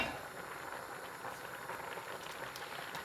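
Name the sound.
milk potato soup boiling in a pot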